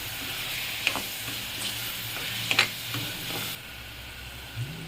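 Spices including chili, turmeric, salt, pepper and coconut powder are stirred into a frying pan of tomato egg gravy, with a soft steady sizzle and a few sharp scraping clicks from the spoon, close and fairly quiet.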